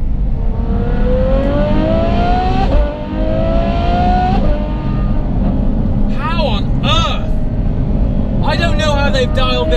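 A Ferrari F12 engine revs hard, its aftermarket IP exhaust roaring through rising gear pulls with sharp crackles and pops as the throttle lifts, loud and close.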